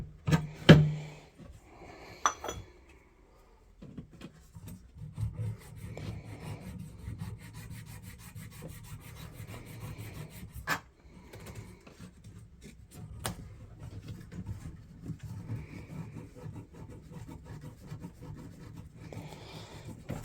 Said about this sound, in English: just rub some sandpaper underneath it